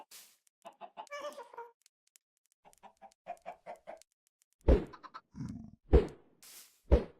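Chickens clucking in the Minecraft VR video game, short bursts of rhythmic game-style clucks in separate groups, followed by several louder thumps and hurts near the end.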